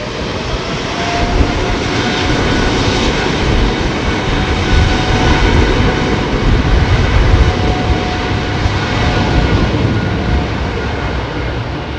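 A Qatar airliner roars on its takeoff run at London Heathrow, a loud, sustained broadband jet engine rumble that holds steady and close throughout, with no talking.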